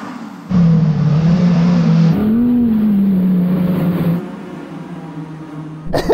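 All-wheel-drive Audi R8 on winter tyres launching and accelerating on snow, a loud sustained engine drone rising and holding pitch for several seconds, then dropping away before a brief final burst.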